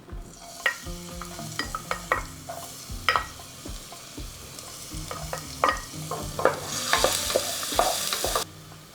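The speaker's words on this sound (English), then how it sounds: "Start with frying the garlic." Steady crackling sizzle of garlic frying in hot oil in a pan, with clinks and scrapes of stirring throughout, loudest near the end.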